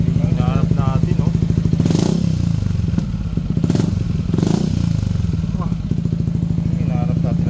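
Yamaha XMAX 300 scooter fitted with a Power Kalkal exhaust pipe, its engine running loud and close with a steady low drone and a few rising revs, with voices talking over it.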